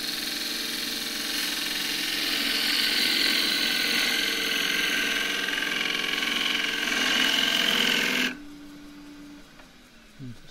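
A wood lathe spins a baronial-style eggcup blank while a gouge takes a shear cut, making a steady, close whirring hum with a scraping cutting tone that runs for about eight seconds, then stops abruptly, leaving only a low motor rundown.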